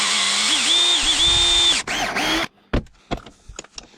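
A power drill whines loudly and close, its pitch wavering as it bites into a dirtbike clutch lever, then stops, followed by a few clanks and rattles of metal.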